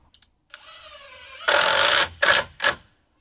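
A power drill drives two deck screws into a wooden sawhorse block: a short, rising whir, then a loud, harsh grinding burst, followed by two shorter bursts, close and alone.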